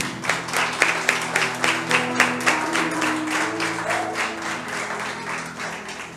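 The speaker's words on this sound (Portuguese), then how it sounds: "Vamos receber com uma salva de palmas." A church congregation claps during an anniversary service, individual claps audible in a quick rhythm over a low sustained musical drone, fairly close and loud, with no speech.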